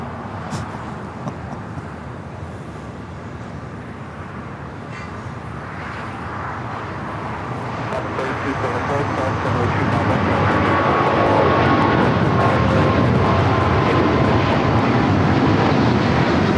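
A United Airlines Boeing 777-200 takes off from LAX, its jet roar building from a steady rumble into a loud, sustained broadband thunder that stays near and heavy to the end.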